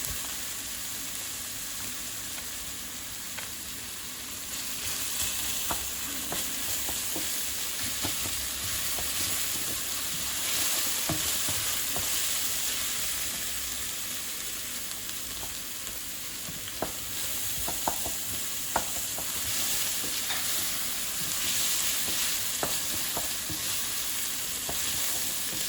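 Four minced garlic cloves fry and are stirred in a pan, with a steady, close sizzling hiss throughout and occasional scraping and tapping of the spoon against the pan, with no voices.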